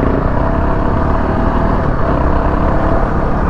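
A BMW G650GS dual-sport motorcycle rumbles steadily while being ridden off-road, its engine loud and close with continuous wind-buffeted drone and no break in the throttle.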